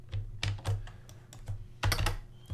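Several sharp keyboard key presses on a computer keyboard, a quick cluster of clicks and thunks with short gaps, close and fairly loud with no talk.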